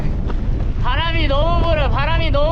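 Strong wind buffets the microphone outdoors on a long bridge to a clifftop village in Tuscany, a loud low rumble throughout, with a voice talking over it.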